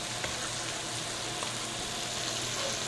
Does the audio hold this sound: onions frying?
yes